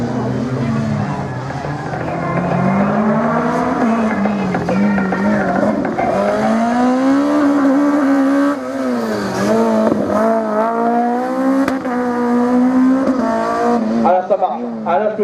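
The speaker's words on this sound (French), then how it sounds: "Ah là, je peux vous dire que ça marche, la Clio, Nicolas Levulin, il n'y a pas de doute." A Renault Clio Group A race car runs a slalom at Lessay, its engine droning loudly and steadily with rising and falling revs throughout, while a commentator talks over it.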